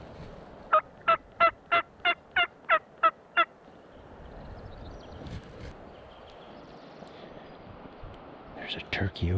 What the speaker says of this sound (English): There's a turkey over here that's just out of range.